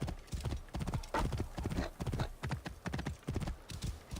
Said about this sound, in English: We're going to hop up on the horse, and we're going to head out that way.